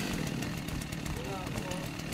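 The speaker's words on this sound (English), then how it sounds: "Man, I got a chainsaw." A chainsaw runs in the survival video game Rust, a buzzing motor drone with rising revs, heard under players talking over voice chat.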